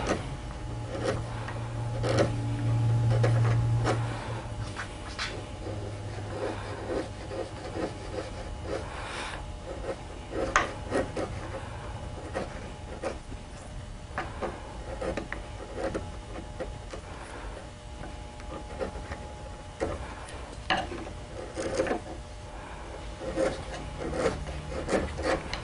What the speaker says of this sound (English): You can also come in with a flat gouge and just kind of round it over a little bit here too